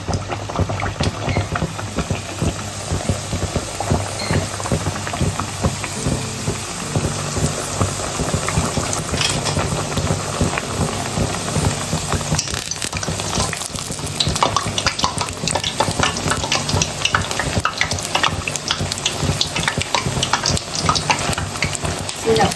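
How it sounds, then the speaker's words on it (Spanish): Torta frita dough frying in hot oil, a dense, continuous bubbling sizzle that stays loud and even throughout with occasional crackles, and no talking. "Vamos a empezarlas a freír. Ya tenemos el aceite caliente."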